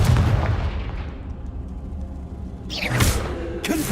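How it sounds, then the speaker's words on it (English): Confringo fire spell blasts in Hogwarts Legacy, a heavy booming impact that decays into a rumble, then a second whooshing burst near the end, loud and close with no voices. "Confringo!"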